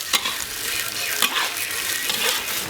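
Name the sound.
stir-frying star anise, cinnamon, bay leaves, ginger and garlic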